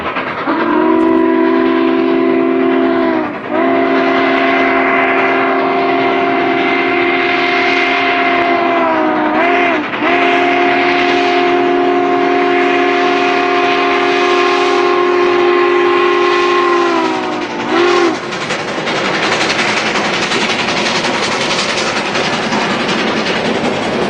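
Southern Pacific 4449 steam locomotive passing on an Oregon excursion run-by, its chime whistle sounding in long sustained blasts with brief breaks, loud and close over rumbling wheels and rail noise, with no talk.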